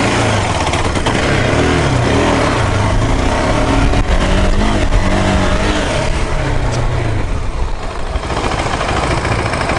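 A KTM Adventure 390 motorcycle being ridden, its engine loud and close with a steady drone that rises and falls through revs, continuous with no talking.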